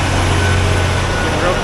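A Putzmeister 32 meter concrete pump truck raises its boom, its engine holding a loud, steady diesel drone at close range, with a voice partly mixed into the noise.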